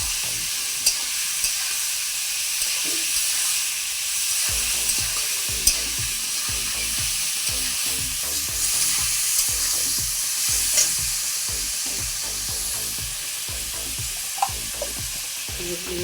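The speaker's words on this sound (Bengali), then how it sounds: "তারপরে ভালো করে একটু কষিয়ে নেবেন, নেড়ে চেড়ে নেবেন।" Spices with turmeric powder fry loudly in a pan, a dense continuous sizzle with scraping stir strokes and occasional sharp pops throughout, no voices.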